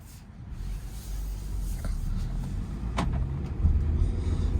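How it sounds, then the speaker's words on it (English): A 2020 VW Jetta R-Line with a 1.4-liter turbo and six-speed manual pulls away from a stop, its engine hum and road rumble rising steadily inside the cabin, with a few light clicks. "All right, now we're gonna go for a drive."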